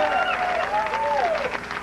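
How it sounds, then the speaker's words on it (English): Audience applause at a comedy panel show: a steady wash of clapping from a studio crowd, with a voice sounding over it throughout. "You love when they applaud like that"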